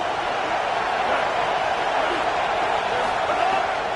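A football stadium crowd roars continuously, a dense, even wall of cheering and shouting voices that holds steady throughout.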